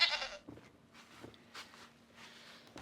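A goat gives one short, loud, nasal bleat right at the start, close to the listener, followed by quieter rustling and shuffling noises with no voices.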